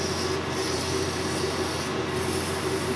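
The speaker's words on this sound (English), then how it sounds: "Get the rub out with a little bit of emery tape." Emery tape rubbed by hand over a metal dividing-head part to take out a rub mark, a steady continuous abrasive hiss that stays close and even throughout with no pauses.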